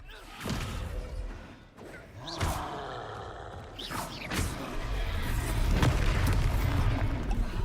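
Descendo spell cast in Hogwarts Legacy, a loud booming magical impact with thuds and creaking debris, several heavy hits over a rumbling game soundscape.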